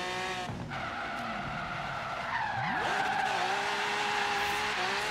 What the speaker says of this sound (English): let's do the drift zone that we got up here